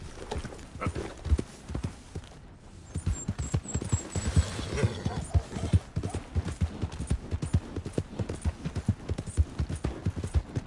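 Horse hooves clip-clop steadily at a walking pace in the video game Red Dead Redemption 2, a close, continuous rhythmic clatter of many hoofbeats with faint background ambience.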